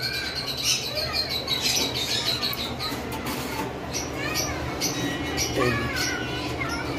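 Pet birds at a bird farm, including a pair of large, well-marked birds, chirping and squawking in a busy overlapping chorus with repeated sharp calls throughout.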